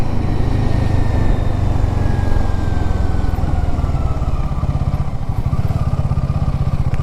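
Motorcycle riding slowly along a hill road, the engine a steady, close, loud throbbing drone with a rapid firing pulse, continuous throughout with no talking.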